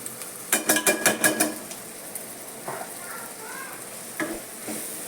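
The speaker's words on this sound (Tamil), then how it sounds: "வதங்கிட்ட பிறகு இப்போ நம்ம அரைச்சி வச்ச மசாலா இப்போ போட்டுடலாம்." Ground masala paste going into a hot pan for mutton gravy, a burst of sharp clinks and scrapes from a spoon against the pan, then lighter stirring sounds over a low sizzle.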